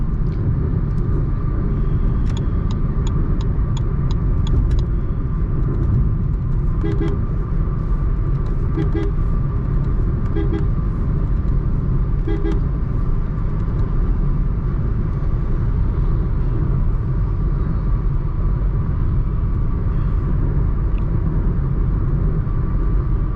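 Steady low engine and road rumble inside a Toyota Taisor automatic cruising on the highway at about 90, just under 1800 RPM, a constant even drone with faint tyre noise throughout.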